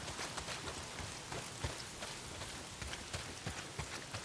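Rain in the Days Gone video game pours down in a dense, even wash of patter with scattered louder drops. It stays soft and continuous, with no voices.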